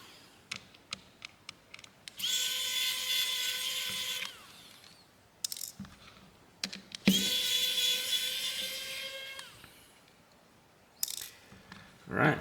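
Small screw being driven out of a BLU G84 phone during teardown: quiet ticks and clicks, then two sustained whirring runs of a small powered screwdriver, close and alone with no talk.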